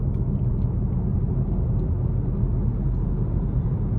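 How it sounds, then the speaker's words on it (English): A 2021 Subaru Ascent Touring 2.4 on a road test drive produces a steady, low rumble of road and engine noise inside the cabin, smooth and continuous with no talk. "take this Subaru Ascent Touring out on the road for a test drive"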